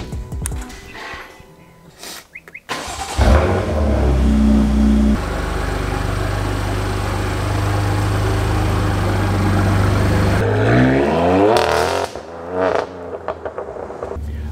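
A BMW F80 M3 engine starts and idles with a deep rumble, then revs and pulls away, the drone rising and shifting as it accelerates nearby.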